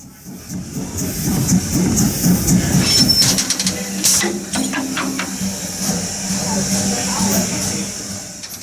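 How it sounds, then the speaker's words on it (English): Steam locomotive No. 90 of the Strasburg Rail Road rumbles and hisses steadily nearby as it runs around its train, with metallic clanks and a brief whistle-like tone, while a voice talks over it. "Number 90 is cut off from the rear of the train and runs around to the other end"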